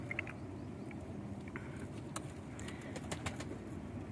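Kamagar pigeons coo softly and repeatedly over a low, murmuring background, with a few scattered chirps.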